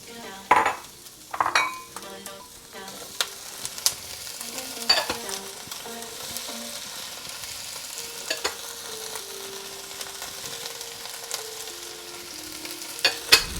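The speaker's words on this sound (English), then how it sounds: "While this is stir frying, we're going to go ahead and mix it all together." Vegetables sizzle steadily as they stir-fry in oil in a hot pan while a utensil scrapes and clanks now and then, stirring the contents.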